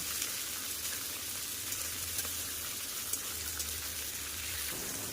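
Soaked chickpeas fry in oil over a low gas flame, giving a steady, dense sizzle that hisses continuously without pause.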